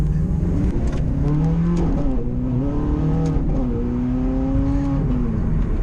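A Ferrari 430 Scuderia engine revs steadily and loudly close by, its pitch rising and falling through several swells without a break and with no talking over it.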